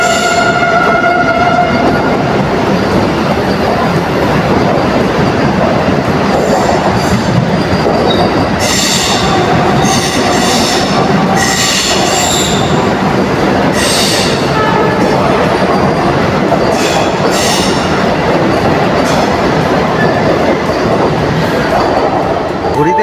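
A local train at a railway station platform rumbles loudly and continuously for the whole stretch, with intermittent high wheel squeals and a horn-like tone in the middle.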